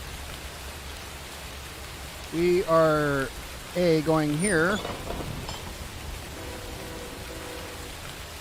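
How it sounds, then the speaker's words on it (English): Steady heavy rain hisses throughout in the Run 8 train simulator game, with a person speaking briefly over it in the middle. "The rain is so freaking loud I can't turn it down though."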